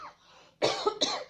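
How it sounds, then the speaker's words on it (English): A short, sharp cough bursts out twice in quick succession close to the microphone, following a brief moment of quiet breathing. "bit of a cough there"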